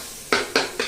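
Three quick scraping strokes of a spoon stir black Nashik-style misal masala as it sautés in sizzling oil, each stroke evenly spaced and close.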